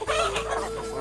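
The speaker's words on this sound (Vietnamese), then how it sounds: "Chị Giao đang cho gà ăn này." Chickens clucking at feeding time on a rural hill-village farm, a brief close burst of busy overlapping clucks.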